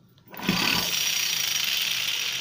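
Angle grinder driven by a hand-cranked dynamo generator built from a salvaged half-horsepower electric motor spins up abruptly after a brief quiet start, then holds a loud, steady whirring whine to the end.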